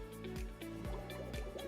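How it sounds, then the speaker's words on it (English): Water gurgles into a tilted bottle as air bubbles rise and escape, a close, steady series of glugging drips and liquid pops repeating in an irregular rhythm with no speech. "You will see that water begins to enter the bottle and air bubbles will rise with a sound."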